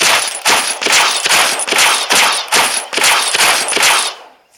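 Rapid automatic gunfire from the video game Blitz Brigade with unlimited ammo, loud and close, firing in repeated short bursts with brief gaps before cutting off.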